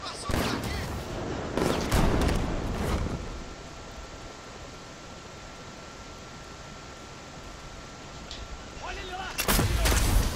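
Bursts of heavy gunfire hit the character in the PS4 game Batman: Arkham Knight, loud dense clusters at the start and end with a quieter steady hiss between them.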